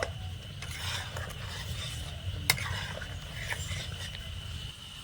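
Raw mango pieces stirred with turmeric powder in a pan, soft continuous rubbing and scraping with a faint clink of utensil against metal near the middle, quiet and close, no talk.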